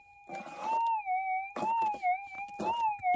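A GPX6000 metal detector's wavering electronic target tone holds steady, warbling in pitch, with a few brief scraping digging sounds breaking in while hunting gold nuggets.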